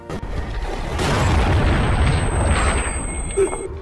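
A loud, booming gunshot blast from a film scene, with a thick low-frequency rumble that swells and lingers for several seconds before fading, followed by a brief later thump.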